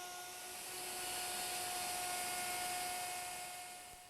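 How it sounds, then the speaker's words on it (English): A router fitted with a Roman ogee edge-molding bit cuts a profile along a wooden edge, giving a steady high-pitched whine with a sustained tone that holds evenly for several seconds at close range, with no talking. "I've changed the bit in the router to a Roman ogee edge molding bit"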